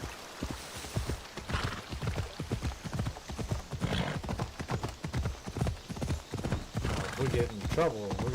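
Horse hooves in Assassin's Creed Odyssey, a brisk steady clip-clop of a galloping mount, close and continuous, with occasional whinnies and a person talking over it.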